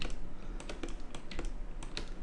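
Computer keyboard keys pressed while working in 3ds Max: a quick run of close, light plastic clicks at an uneven typing rhythm over faint room hum, with no speech.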